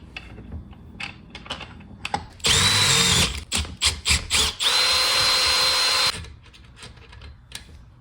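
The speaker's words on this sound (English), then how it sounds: "First thing we gotta do is drill this bad boy out." A power drill bores out a bolt on a budget NASCAR exhaust build, with two sustained high-pitched whines. Short bursts of drilling come between them, and light clanks and handling noises fall before and after.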